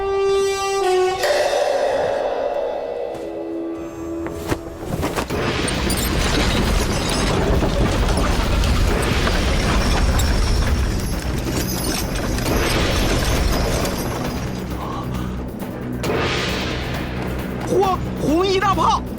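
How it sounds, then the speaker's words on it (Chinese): Red-coat cannons, heavy muzzle-loading artillery, fire in a Qing-era palace drama: after a quiet opening, loud booming blasts merge into a sustained, rumbling roar. Faint voices sit underneath. "快看，红衣大炮！"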